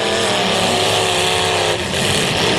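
The number 13 race car, driven by Lynn Lewis, runs hard at a bash-for-cash race event, its engine a loud, continuous, gritty roar with a brief dip in pitch near the end.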